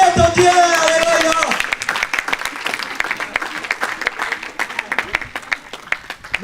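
A church congregation in Caen claps and cheers in praise of the Lord. Loud, dense applause follows a brief sung or musical passage, with voices mixed into the clapping.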